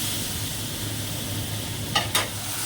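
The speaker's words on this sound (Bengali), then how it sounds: "তো একটুখানি জল দিয়ে কষিয়ে নিলাম হালকা করে" A mustard and cumin paste sautés with a little water in a pan, making a soft, even sizzle over a low hum, with two quick scraping stirs near the end and no voices.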